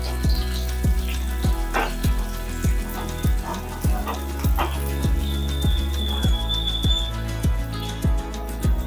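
Curry leaves sizzling in hot oil for a Konkan-style vegetable dish, a steady loud close crackle and fry with sharp regular pops throughout, no talking.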